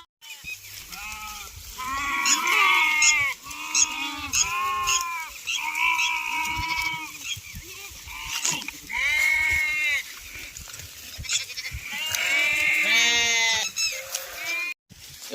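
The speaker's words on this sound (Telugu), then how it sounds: "మంచిగా అన్నీ నీళ్ళు తాగుతాయి గొర్రె" Several sheep bleat close by while drinking water, their calls overlapping and repeating in bursts with short pauses between.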